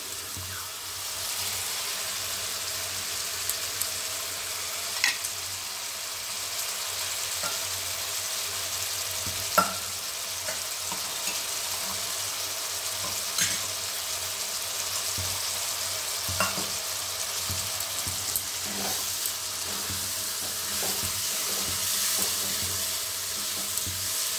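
Salgam (turnip) vegetable curry frying and being stirred in a pan in a Bengali vegetarian kitchen: a steady close sizzle with scattered scrapes and clinks of the spoon throughout, no talking.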